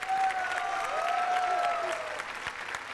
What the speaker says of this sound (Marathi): जोरदार टाळ्या झाल्या पाहिजे त्या जोडीसाठी